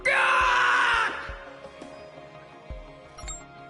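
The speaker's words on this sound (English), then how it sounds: "seems like you're getting a lot of screams" A loud, strained game-character scream bursts out in Sword Art Online: Fatal Bullet for about a second, then fades into quieter game sounds with a few low thumps.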